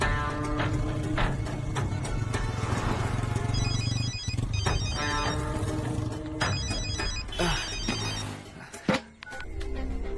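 A telephone rings repeatedly in bursts of electronic trills over a busy background of engine-like rumble and noise.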